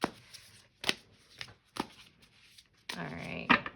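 Tarot card decks are shuffled in short riffling bursts with brief pauses between them, close and fairly quiet.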